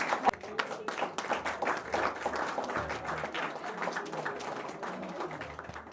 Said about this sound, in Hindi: जोरदार तालियां बजा लीजिए अपने लिए